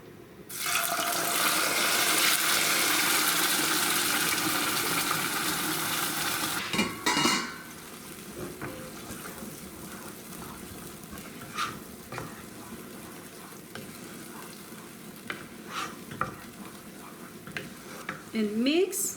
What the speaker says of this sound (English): When the oil is hot,